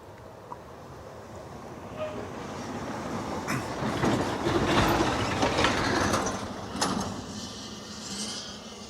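Southbound M647 freight train passing a rural crossing in Kentucky, a rumbling roll of railcars building to a loud peak midway with clanks and squeals, then easing off.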